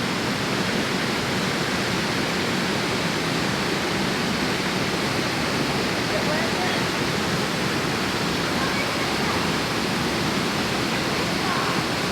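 A natural waterfall at a swimming spot roars continuously, a dense, steady rush of falling water that fills the whole scene at constant loudness without a break.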